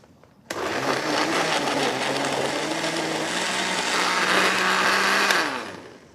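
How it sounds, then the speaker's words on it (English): A countertop blender whirs loudly and steadily for about five seconds while blending a banana fruit smoothie, starting abruptly and winding down at the end. "We're going to put it on our blender,"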